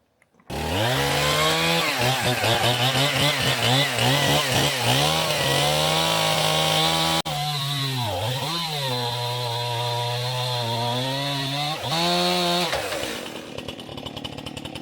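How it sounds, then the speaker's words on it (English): Chainsaw running steadily into a beech log, loud and close, engine pitch dipping and recovering as the chain bites through the wood, with a brief drop in load midway and the motor idling down at the end. "I'm going to get the chainsaw and cut it around about here."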